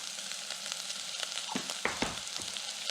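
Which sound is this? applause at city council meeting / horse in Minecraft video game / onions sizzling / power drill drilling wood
onions sizzling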